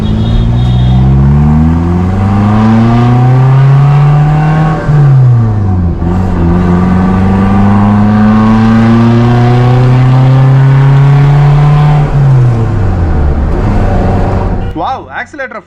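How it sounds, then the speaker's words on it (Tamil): A Maruti Zen Steel two-door car accelerates hard, its engine revving loud and close and climbing through the gears with drops at each shift, while a voice talks over it. "ஆக்சிலேட்டரை ஃப்ளோர் பண்ணோம்னா"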